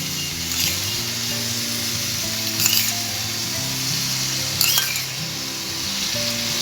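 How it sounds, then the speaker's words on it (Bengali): Homemade malai cream goes into sautéed pointed gourd already frying in a pan, bringing a steady close sizzle throughout, with a couple of brief clinks of a spoon against the pan. "পটলটা দেওয়ার পর খুব ভালো করে আমি কষিয়ে নিয়েছি এরপর আমি এর মধ্যে দিয়ে দিচ্ছি মালাই"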